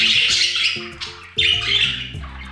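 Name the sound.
budgies chattering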